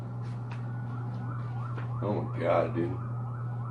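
An ambulance siren sounds through steady traffic noise, rising in loudness as it passes close by with wailing tones, while someone speaks briefly over it.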